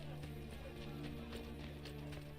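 Horse hooves clip-clopping in the video game Assassin's Creed Brotherhood, a steady rhythmic trot of soft thuds over a constant background hum, moderately close and even-paced.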